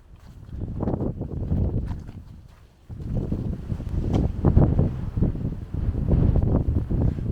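Gusty wind roars and buffets the microphone steadily on a hike in the Budawangs, with some rain, dropping briefly before surging back with rumbling low-end bursts.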